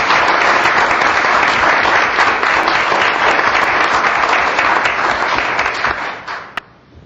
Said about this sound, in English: Please join me in giving Scott a round of applause.